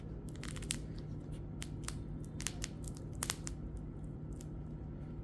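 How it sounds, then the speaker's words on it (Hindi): Crisp cracking and crinkling snaps of a small comic book's binding opening, close up, in irregular bursts over a steady background hiss; no voices. "हल्की सी वो बाइंडिंग की आवाज़ आ रही है निकलने की, फटने जैसी आवाज़"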